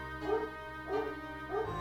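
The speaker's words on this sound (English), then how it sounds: "hear the dogs barking" Dogs bark in three short, evenly spaced yips, fairly faint behind a steady electronic hum.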